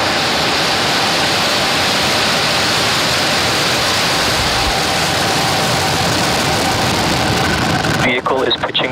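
SpaceX Falcon 9 rocket engines roar at liftoff from LC-39A at Kennedy Space Center, a loud, sustained broadband rumble filling the whole clip before cutting off abruptly near the end, where a brief voice is heard.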